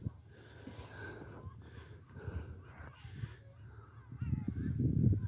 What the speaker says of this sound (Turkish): Sessizlik, martı sesleri.